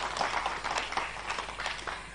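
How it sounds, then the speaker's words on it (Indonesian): Audience applause for the candidate pairs at a regency head election debate in Tanah Bumbu, South Kalimantan, a steady clatter of many hands clapping at moderate volume for the whole stretch, alone without talk. "Kita berikan tepuk tangan yang sangat meriah kepada semua pasangan calon."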